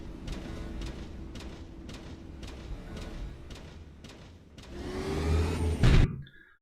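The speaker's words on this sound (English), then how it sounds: "like a diesel, but also kind of sounds a little sci-fi. Like a sci-fi diesel" A sound-designed diesel truck engine with a sci-fi character: a run of rhythmic pulses builds into a louder swelling roar that peaks and then cuts off sharply, with no talking.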